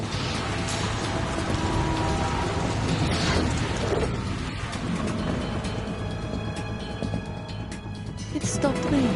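Steady rain hisses on the deck of a tanker ship in the video game Metal Gear Solid 2, a dense constant wash with occasional mechanical clanks. Voices talk over it.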